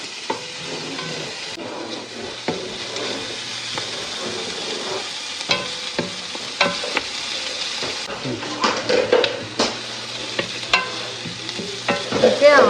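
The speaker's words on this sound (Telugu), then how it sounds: "బంగారు వర్ణంలోకి మారే వరకు ఆనియన్స్ ఫ్రై చేయాలి." Onions fry in oil in a pan for pulao, giving a continuous sizzle, with frequent clinks and scrapes of a utensil against the pan that grow busier toward the end.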